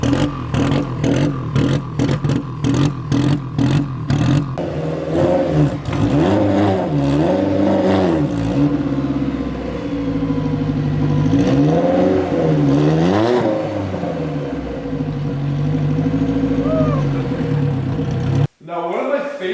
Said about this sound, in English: I've been wanting to do rotational idle on a car for so long.